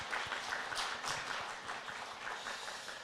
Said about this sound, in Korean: 우리 축복의 박수 하겠습니다